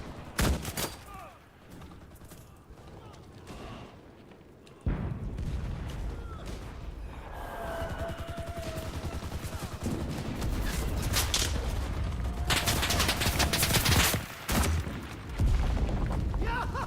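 In the video game Enlisted, an artillery strike and gunfire land as sharp booms and bursts of shots amid game noise and rumble, louder toward the end, with voices talking over the action.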